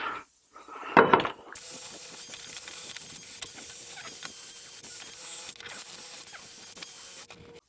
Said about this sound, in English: Look at that, that's just with a wire wheel